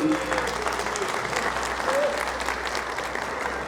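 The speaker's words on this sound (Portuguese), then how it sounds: "Salva de palmas pro Pedrinho." Church congregation applauding together in a dense, steady wash of clapping that lasts throughout, with a few faint voices mixed in underneath.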